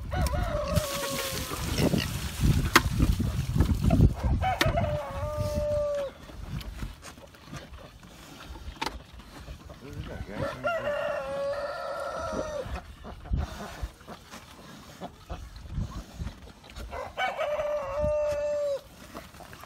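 A rooster crows three times, spaced several seconds apart, over steady clucking from nearby chickens and gusty wind noise.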